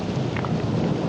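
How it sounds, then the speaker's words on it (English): Thunder rolls through a storm near Houston as a steady, dense rumble, with rain hissing continuously around it and no voices present. "Looks like there's a bad storm."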